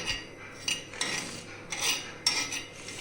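Scraping and clinking of a metal utensil stirring ajwain on a hot griddle, several separate strokes with gentle sizzling between; no talking.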